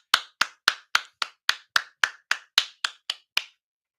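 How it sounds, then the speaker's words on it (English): Steady, even hand claps ring out thirteen times at a brisk regular beat during a religious teaching session, crisp and close with no talking over them. "Let's clap it up for the Most High."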